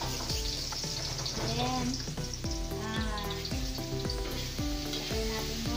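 Chopped garlic sizzles and fries in oil in a pan, the start of a pinakbet dish, with a steady crackling hiss and occasional stirring scrapes close by, and a brief spoken word partway through.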